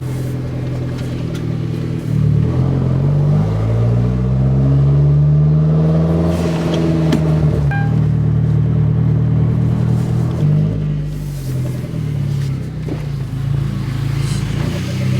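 A car is driven up a street after a steering wheel swap, its engine rumbling loud and close with rising and falling revs as it accelerates and shifts, no talking over it.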